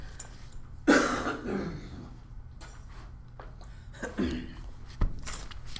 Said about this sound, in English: Let me cough real quick